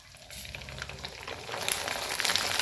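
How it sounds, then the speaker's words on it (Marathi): Papad frying in hot oil in an Indian home kitchen, a steady crackling sizzle that grows louder and denser toward the end, with no voices. "तसंच दुसरं पण पापड तळून घेऊया"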